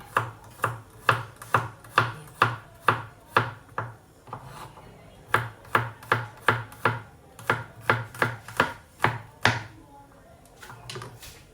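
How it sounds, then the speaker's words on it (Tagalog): A knife chops garlic steadily on a board, about two dozen quick even strikes with a brief pause midway, close and distinct. "hiwain natin itong garlic"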